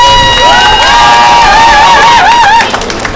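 A crowd at an outdoor election campaign rally in Goryeong, South Korea, for an education superintendent candidate cheers loudly, with high shouting voices and some clapping mixed into a close, energetic roar.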